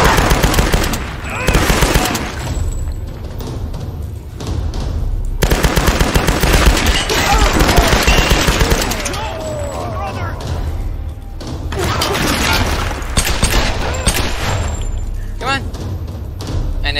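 Sustained machine-gun fire aimed at the player in Tomb Raider, loud rattling bursts with thuds and impacts, broken by short lulls, with voices speaking over the shooting.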